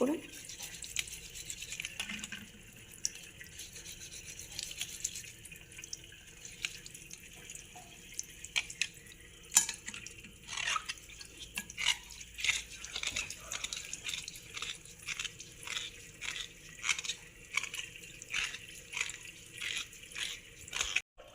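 Aquarium parts rinsed under a running tap, with steady flowing water and clustered drips and splashes from nearby as the pieces are handled in the stream; a voice talks at times over the water.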